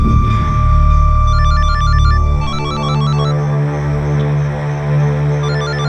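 A phone rings with a repeating electronic ringtone melody, steady and loud, playing over a low droning background hum with no talking.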